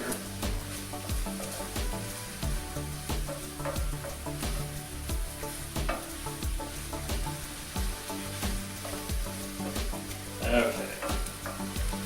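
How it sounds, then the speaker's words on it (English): Ground beef and flour frying in a pan for beef stroganoff, a steady close sizzle with scraping stir strokes throughout, one brief word spoken over it. "we want to cook this a little bit so we get some of that flour taste out of it"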